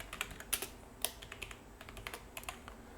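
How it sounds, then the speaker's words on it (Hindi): Someone types code on a computer keyboard in a quiet room, with soft, irregular key clicks and a few sharper taps. The typing sits close but faint over low background hum. "तो उसके लिए हम यहाँ पे लिखेंगे सिलेक्ट"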